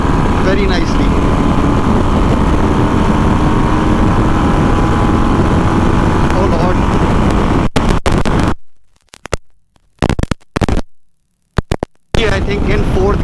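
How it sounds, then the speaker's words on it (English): A Harley-Davidson Breakout 117 motorcycle roars hard at speed, its engine a loud, continuous drone with wind rush, then breaking up into short gaps and bursts near the end as it shifts gears. "this bike is taking clutchless upshifts very nicely"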